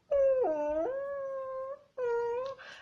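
A puppy whines in two drawn-out, wavering cries close by with a short gap between them, fairly loud and alone without talk.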